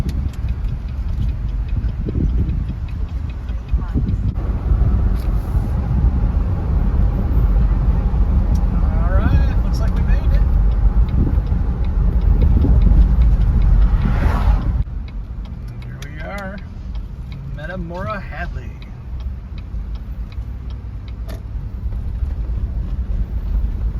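A small car hums along a road at steady speed, engine and tyre noise with wind buffeting, while a person talks over it for much of the stretch before the drive settles quieter.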